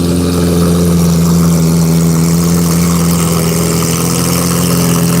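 An extremely loud Lamborghini Aventador SV engine rumbles close by with a deep, raspy, unmuffled drone and steady throaty idle.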